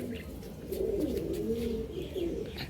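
A pigeon coos in a low, rolling, close-up call lasting a couple of seconds, with faint rustling behind it.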